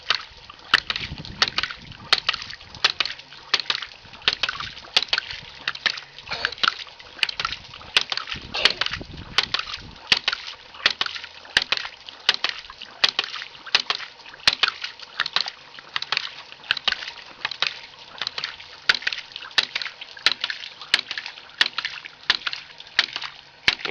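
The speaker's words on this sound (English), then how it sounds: "Okay, so pump's going." A water pump runs, knocking in a steady repeating rhythm of sharp clacks about once a second over a constant mechanical hum, close and unchanging throughout.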